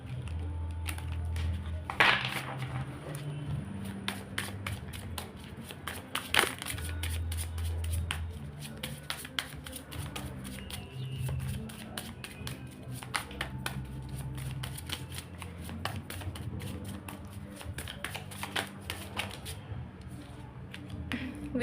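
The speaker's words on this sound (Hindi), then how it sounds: "तो जब तक मैं शफलिंग कर रही हूँ आप लोग प्लीज़ पॉजिटिव रहिएगा।" Tarot cards being shuffled by hand, a steady run of close, crisp riffling and flicking that continues for over twenty seconds with only faint background sound.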